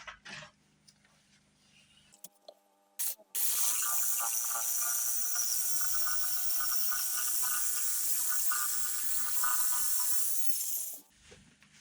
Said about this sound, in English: it's time to have at it with the saw